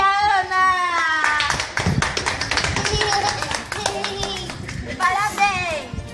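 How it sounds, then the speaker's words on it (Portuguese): Clapping rings out for the winners of a lemon challenge, a burst of hand claps beneath excited speech and children's voices talking over it. "Palmas para a Gabi e a Ana!"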